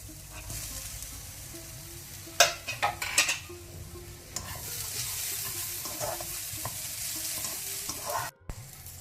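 Coconut, onion and garlic roasting in a pan, with a steady close-up sizzle and bursts of scraping and knocking as a spatula stirs the mixture.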